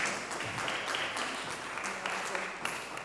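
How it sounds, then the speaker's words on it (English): A church congregation at a holiday club service applauds, a steady, dense wash of clapping that holds evenly for about three seconds without pause. "Let's give Jane a round of applause."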